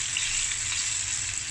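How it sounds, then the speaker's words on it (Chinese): Pork ribs pan-frying slowly on low heat in garlic-infused oil, giving a steady, close, continuous sizzle and crackle with no voices. "就將啲排骨咧就用半煎炸咁嘅形式，就用慢火，就慢慢咁去"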